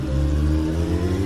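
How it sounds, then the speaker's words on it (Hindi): A motor vehicle on a road speeds up, its engine giving a strong, steady hum with clear low tones that holds close and loud throughout, with no talking. "गाड़ी का स्पीड बढ़ाया"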